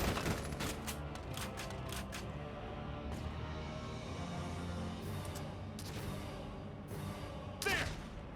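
Enemy gunfire in the video game Valkyria Chronicles 4, loud bursts of rapid shots in several volleys, clustered early, then returning near the middle and end over a rumbling battlefield background.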